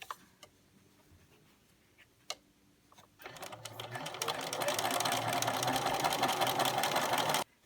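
After a few faint clicks, a sewing machine starts up and stitches fabric strips together with a 1/4 inch seam, building to a fast, steady close whir for several seconds before stopping abruptly.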